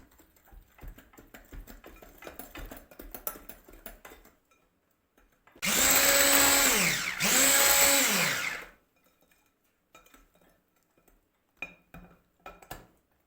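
Sifted flour and cocoa stirred together in a bowl for cake batter, heard as a loud whirring mixing burst of about three seconds in two close passes, with quieter clinks and scrapes around it and no talking.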